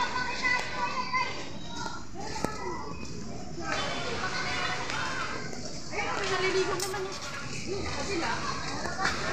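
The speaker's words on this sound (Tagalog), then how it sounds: "mga bata, ang dami naliligo sa swimming pool." Children play and splash in a resort swimming pool at Nasugbu, Batangas, their shouts and chatter spread out at a moderate distance over a steady background wash, with scattered voices throughout.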